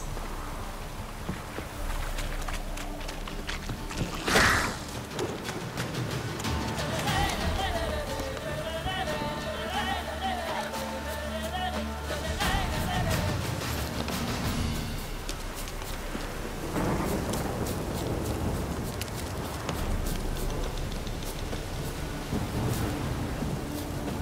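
Heavy, steady downpour in The Witcher 3: Wild Hunt roars throughout, with a low rumble of thunder and scattered louder splashes, no talking.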